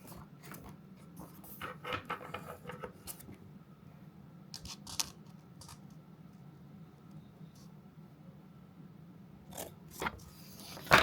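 Small scissors snipping sticker paper for a December planner dashboard page, a string of short crisp cuts and paper rustles close to the mic over a steady low room hum, with a louder clatter at the end.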